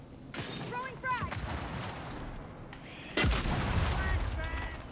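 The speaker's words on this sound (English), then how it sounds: "Throwing frag." A frag grenade thrown and exploding in Gears 5, a sharp loud boom bursting in midway after game chatter and effects, followed by rumbling aftermath and a voice.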